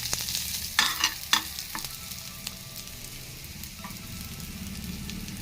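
Sardines frying in a pan with a few distinct stirring scrapes near the start, over a steady close sizzle that carries on alone throughout.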